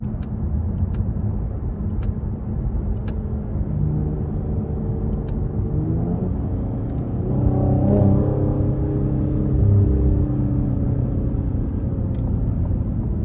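A 2021 Cadillac CT5-V with the 3.0 engine cruising gently, its steady low engine and road rumble continuous throughout, swelling slightly midway as the revs rise and hold, with no voices.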